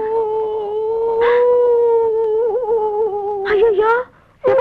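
A voice imitates a dog howling in the morning, a loud sustained wavering howl lasting several seconds with a few breathy catches before it breaks off.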